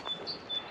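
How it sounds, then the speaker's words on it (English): Birds chirp faintly outdoors on a sunny day beside a Bailey Advance motorhome, with a few short high tweets scattered over soft background noise. "So the sun's out, birds are singing."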